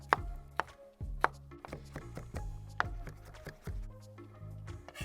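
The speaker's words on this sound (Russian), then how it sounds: "Укроп режем мелко." A knife finely chopping dill on a board, a string of crisp, uneven chops and taps, close and alone over soft background music.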